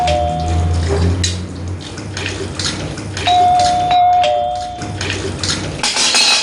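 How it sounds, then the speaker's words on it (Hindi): A doorbell chimes a few times amid clattering household noise and running water, with the tones fairly close and moderately loud. "क्या घंटी में घंटी बजा रखी है?"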